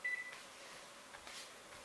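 A kitchen timer gives a short high beep as it is set for a pancake, followed by quiet room noise and faint clicks of buttons, with no talking.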